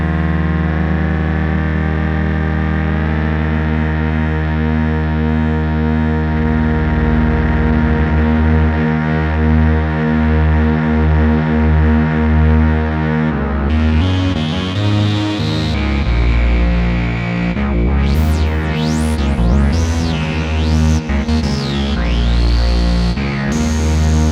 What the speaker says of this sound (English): And we'll tune our other oscillators